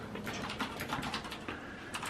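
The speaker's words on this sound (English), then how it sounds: "Fast typing" Rapid typing on a computer keyboard, a quick, dense patter of light key clicks heard close and alone at low volume.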